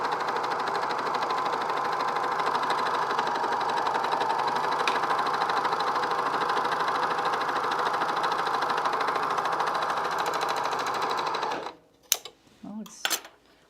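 Cover stitch sewing machine running steadily on fleece for about eleven seconds, a loud continuous mechanical whir, then stopping abruptly, followed by a few brief clicks and handling noises.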